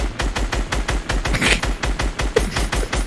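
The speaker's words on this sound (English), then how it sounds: "I'm gonna shoot you with my scar" Rapid SCAR assault rifle fire from the Fortnite video game rattles in a dense, loud, steady stream of evenly spaced shots throughout, close up and with no talking.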